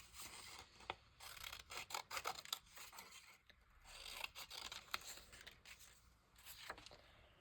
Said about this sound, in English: I'm just going to cut the square out for now